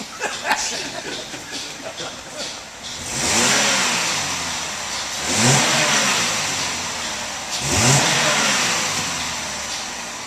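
A used car's engine is revved three times in succession from near idle, each rev a loud swelling roar that falls back, with a person chuckling and brief talk in between.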